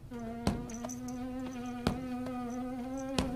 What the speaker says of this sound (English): Did Scooby just eat a fly like a frog?